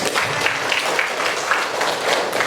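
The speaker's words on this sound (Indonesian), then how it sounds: "Bagus, kasih aplaus dulu." Brief burst of classroom applause, a small group clapping steadily at close range, with faint voices underneath.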